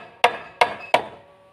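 Three sharp, evenly spaced hammer strikes drive nails into a bamboo gate, each blow ringing briefly and close by with no talk.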